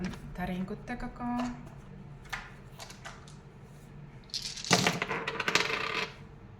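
Dice clatter and rattle in a few bursts, rolled by hand at close range and louder near the end, with a person speaking quietly in between.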